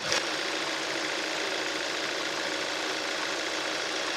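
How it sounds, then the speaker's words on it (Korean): A Kia K7 2.4 GDI car engine idles steadily up close with the hood open, a smooth even hum with a faint mechanical ticking, unchanging for several seconds. "엔진룸 개방해봤습니다 엔진 소리 들어보도록 하겠습니다"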